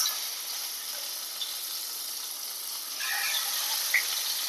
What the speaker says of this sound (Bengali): এখন মাছের পালা, মাছগুলো ভেজে নিচ্ছি।